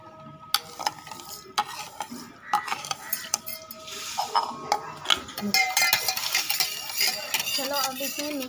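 A spoon stirs sugar into lemon juice with repeated bright metallic clinks and scrapes against the vessel, close and busy, growing denser and more continuous toward the end.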